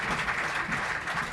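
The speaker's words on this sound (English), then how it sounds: "Please give them a round of applause." A short burst of steady applause rises from the audience at a Climate Day award ceremony on sustainable electrification, even and continuous with no voices over it.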